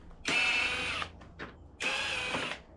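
Power screwdriver backing Phillips screws out of a lawn mower's top cover: two separate whirring bursts of about a second each, close and clear in a quiet space, with a brief tool rattle between them.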